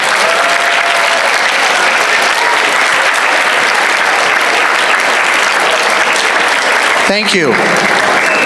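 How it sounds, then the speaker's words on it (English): Sustained applause from a crowd at a 12th grade graduation ceremony for the families, loud and steady throughout, with a voice briefly speaking near the end. "I want to applaud the families who have helped make today happen."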